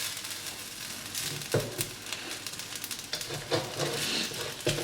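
Beaten egg settling into an omelette-like layer in a hot pan for nasi goreng, a continuous close sizzle with a few sharp crackles and spatula scrapes.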